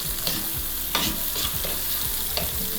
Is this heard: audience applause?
no